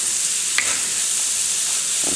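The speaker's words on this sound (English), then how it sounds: "Give this a quick stir. Try and get some of that good stuff off of the bottom." Chicken sauce piquant sizzles steadily in a pot while a spoon gives a quick stir, scraping the bottom with a brief clack; a constant close frying hiss, no voices.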